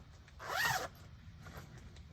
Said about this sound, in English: Sorry for the zip. Sorry for the double zip.